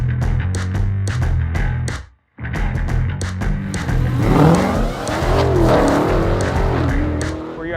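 An 840-horsepower Dodge Demon after a burnout: a loud, close engine rumbles and revs hard, cuts out briefly, then roars back with squealing tires and a rising, wavering howl.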